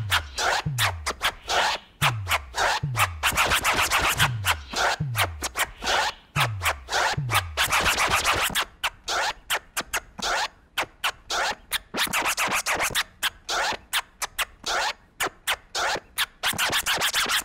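Rapid turntable scratching in a steady rhythmic pattern, quick back-and-forth record cuts with a repeating sweeping tone, loud and up close with no voices.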